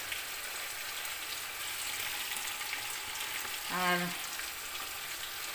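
Spices, garlic and ginger frying in a pan, a steady, continuous sizzle with a brief clink partway through and a single spoken word.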